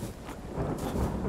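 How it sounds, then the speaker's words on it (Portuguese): Video game rain pours steadily while a low rumble of thunder rolls underneath, brief and fairly loud. "Tá chovendo, tá escuro."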